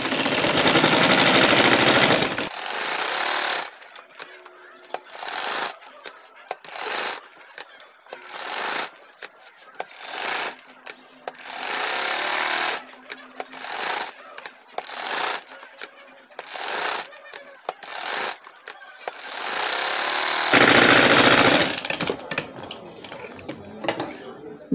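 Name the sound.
sewing machine stitching a kameez neckline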